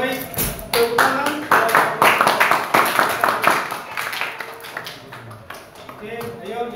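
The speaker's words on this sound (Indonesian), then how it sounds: "Ya baik, tepuk tangan." A classroom group claps hands together in a dense, sustained burst of overlapping claps that fades slightly toward the end, with voices mixed in.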